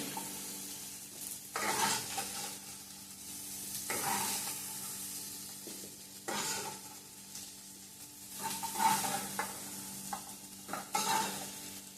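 Food fries in a pan for a festival meal, a soft, continuous sizzle broken by repeated bursts of stirring and scraping at irregular intervals, close and fairly quiet.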